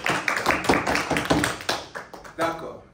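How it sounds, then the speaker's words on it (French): Classroom students applauding themselves, a short burst of scattered hand claps close by, mixed with voices talking. "Applaudissez-vous."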